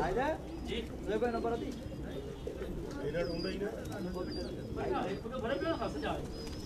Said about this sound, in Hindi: ये देखें नाहिद का कबूतर